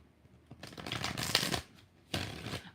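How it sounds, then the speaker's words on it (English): Tarot cards are shuffled in two bursts of crisp riffling and flapping, a longer run followed by a shorter one after a brief pause, close and fairly loud with no talking. "5 shuffles."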